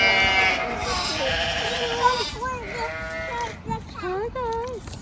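Goats bleat at a family farm, several wavering cries overlapping one another, loud and close, with people talking nearby.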